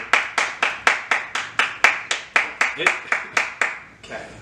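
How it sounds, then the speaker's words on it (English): A single person claps steadily about a dozen times in an even rhythm, crisp and close, with a faint voice briefly at the end. "I'm going to give you a one-man round of applause,"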